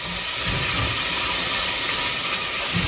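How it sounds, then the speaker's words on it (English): Onions sauté in a saucepan over medium heat, giving a steady, even hiss of sizzling that continues without pause. "I'm just going to saute these in a saucepan, obviously."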